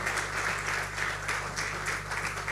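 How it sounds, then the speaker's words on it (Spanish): A church congregation claps for the Lord after a proclamation in a sermon. A steady, full round of applause with a faint low hum underneath stays loud and even throughout. "¿Cuánto le dan un aplauso al Señor por esta proclama?"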